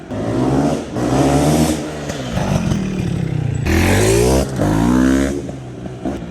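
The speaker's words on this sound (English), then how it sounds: "That's what a big bore is supposed to sound like." A tuned 2023 GasGas 500 BRC big-bore dirt bike engine revs hard several times, rising in pitch with each twist of the throttle, loud and close with brief gaps between pulls.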